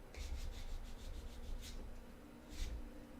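Steady, soft rubbing and scraping of sandpaper on a hard surface of a cosplay prop axe, with rhythmic back-and-forth strokes and a couple of louder swipes, no voices.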